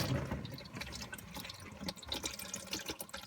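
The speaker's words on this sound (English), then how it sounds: "we're just going to let all the transmission fluid drain out into the pan" Transmission fluid from a Tremec T56 six-speed gearbox drains into a pan, a quiet, uneven trickle and splatter of liquid with scattered drips, close and soft, with no talk.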